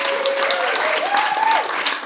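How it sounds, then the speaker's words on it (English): An audience applauds a panellist at a music co-operative launch event. The clapping is dense and sustained throughout, with a thin tonal voice or whistle rising above the crowd. "A round of applause for Andrea,"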